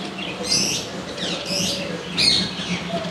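Faint cooing and soft chirping calls from King pigeons in a bird shop, a few brief bursts over steady low background rumble.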